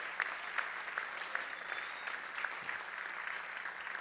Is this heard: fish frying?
no